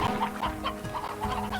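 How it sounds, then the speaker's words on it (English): Briar hens in the game Slime Rancher cluck in short repeated bursts over a steady humming game backdrop, the clucks fairly close and moderately loud with no talk over them. "The briar hens, which we can actually take some of them too"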